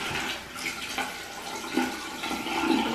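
Running water splashes continuously during a face wash at a sink, a close, steady wet rush with small splashy bursts as water is dabbed onto the face.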